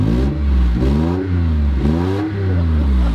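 A racing van's engine revs up and down several times in quick succession, each rev rising and falling in pitch, loud and close over a steady idle.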